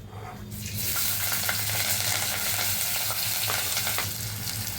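Onions, green chillies and curry leaves hit hot oil in a kadai with a sudden loud sizzle that stays bright and continuous, with occasional crackles and pops, and no voices.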